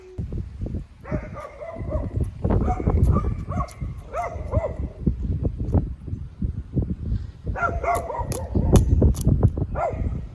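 A dog barks and whimpers close by, with bursts of high, yelping barks and whines that come and go over a steady low rumble of background noise.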